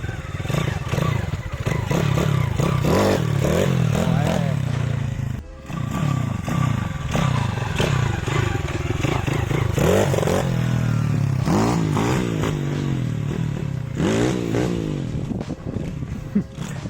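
A dirt bike engine revs hard and continuously during a wheelie, up close and loud, its pitch repeatedly rising and falling with throttle blips, carburetor poorly adjusted, with some clatter and scraping mixed in.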